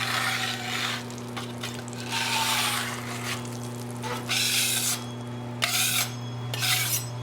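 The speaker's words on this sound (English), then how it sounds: "but that's what this little scraper is for." A small metal scraper dragged across a flat home griddle while cooking gyros: long, rasping scrapes repeated several times over a steady hum, close and fairly loud with no talk.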